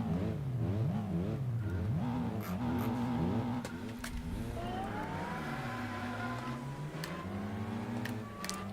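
Lancia Delta engine in Gran Turismo 4, revving hard through repeated rising and falling gear sweeps, then settling into a longer smooth climb in pitch, loud and continuous throughout.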